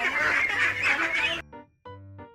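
Ducks quack loudly and close by, several harsh honking calls in a row, then a brief pause before more calls.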